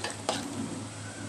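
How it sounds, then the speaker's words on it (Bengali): A spoon stirs vegetable khichuri of rice, winter vegetables, chopped tomato and green chilli frying in a pot, a soft scrape over a steady quiet sizzle, heard close with no voices. "নেড়ে দিই"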